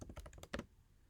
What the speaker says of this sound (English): Let me type something inside that.